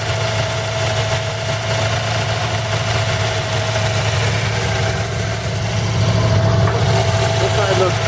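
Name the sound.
1940 Buick straight-eight engine idling after first start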